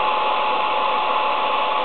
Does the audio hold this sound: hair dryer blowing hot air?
yes